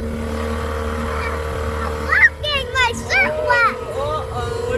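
A motorboat engine drones steadily throughout while someone talks over it in the second half.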